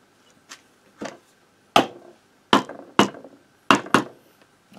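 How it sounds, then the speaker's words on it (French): Hammer taps seating a motorcycle cylinder head onto its centering dowels during an engine rebuild, about seven sharp metallic knocks at irregular intervals, close and clear with no talk. "on la remboîte au marteau parce qu'il y a des ergots de centrage"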